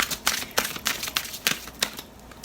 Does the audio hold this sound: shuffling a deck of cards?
yes